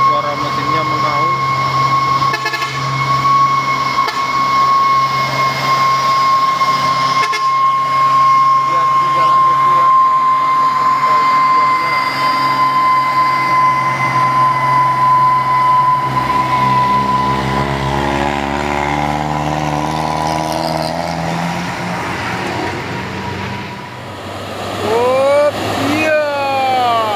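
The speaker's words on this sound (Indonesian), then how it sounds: "suara mesinnya mengaum" A heavily loaded Hino trailer truck climbs a hill, its engine roaring steadily and straining loud and close for a long stretch, with a whine on top and shifting pitch near the end, while someone talks over it.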